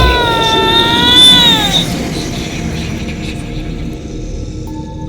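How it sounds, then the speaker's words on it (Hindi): A drawn-out, wavering cat cry rises and bends before fading into a dark, noisy background with a faint low rumble, like a wild cat wailing in a forest at night. "बिल्ली अब भी रोए जा रही थी।"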